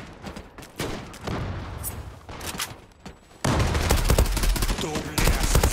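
Rapid bursts of TAR-21 gunfire in a Zula team deathmatch, dense and loud, building into a sustained barrage in the second half.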